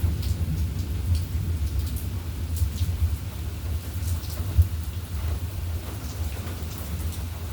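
A storm sounds with constant rain and low, rolling thunder rumbling underneath, including one brief sharper thump, and no voices over it.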